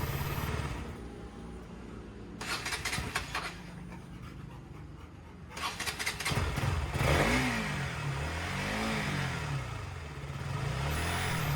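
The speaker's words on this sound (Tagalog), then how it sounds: "So pinainit ko lang yung makina dito, tingnan ko kung maandar" KTM Duke 200 V2 motorcycle engine warming up after restarting from long disuse. It runs close and loud with uneven bursts of revving, then settles into a steady rumble with varying tone.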